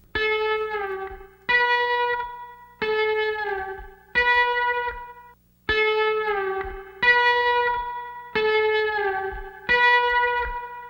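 Distorted electric guitar through an Acustica Audio Diamond Dynamic Saturator plugin with reverb rings out in a steady pattern of eight strums, each sustaining with a saturated, reverberant tail before the next.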